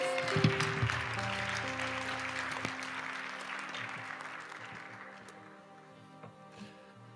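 A church congregation bursts into loud applause acclaiming the Lord, a dense roomful of clapping with a few shouts that gradually fades toward the end.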